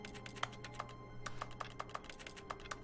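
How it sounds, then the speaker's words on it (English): Rapid keyboard key clicks in The Stanley Parable: Ultra Deluxe, a quick irregular run of crisp, close taps over a steady low electrical hum, with a short pause partway through. "Why is everything making a keyboard sound?"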